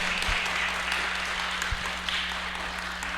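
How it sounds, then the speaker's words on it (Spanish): Audience applause for a guest speaker at a literature and neuroscience conference, a steady wash of clapping held at moderate level throughout with a faint low hum beneath. "¿Por qué no le brindamos el aplauso a nuestro invitado?"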